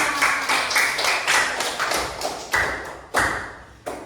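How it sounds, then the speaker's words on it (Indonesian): Schoolchildren in a classroom clapping for a writing group in a close, loud rhythmic pattern of grouped claps with sharp accents, ending in a few separate firm claps. "tepuk tangan dong untuk kelompok penulis"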